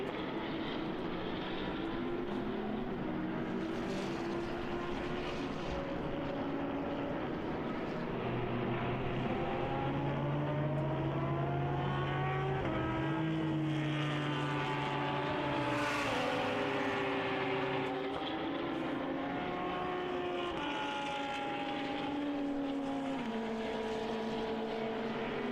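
Race cars lapping the Red Bull Ring during an endurance race, engines droning continuously with rising and falling pitch as cars pass, a layered distant roar with one louder pass midway.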